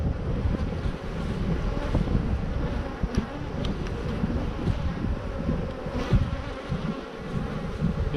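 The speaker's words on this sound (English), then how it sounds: "Wow, these are nice, big, healthy bees." Honeybees swarm and buzz around a newly installed hive, a dense continuous drone close to the microphone with some wind noise mixed in, no voices.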